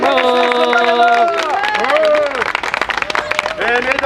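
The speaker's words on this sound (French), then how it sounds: "Applaudissez-le." A crowd at a medieval festival claps and cheers while an announcer talks loudly over it, the applause building behind the voice and continuing beneath it.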